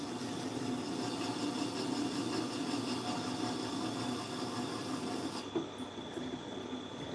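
A knife blade being sharpened on a Tormek grinder fitted with a KJ-45 knife jig, giving a steady grinding rasp with a constant wheel hum throughout, close and continuous, easing slightly near the end.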